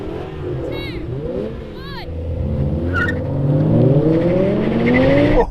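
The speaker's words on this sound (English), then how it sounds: "Oh, I could just see that M5 spinning its wheels." V10 BMW M5 launching in a drag race with wheelspin, its engine note rising in sweeping revs alongside competing cars, loud and close, with people talking over the run.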